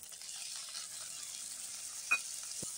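Tomatoes added to mustard masala frying in a pan give a soft, faint, continuous sizzle with one brief metallic clink partway through, and no talking.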